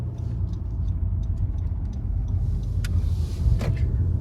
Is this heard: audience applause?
no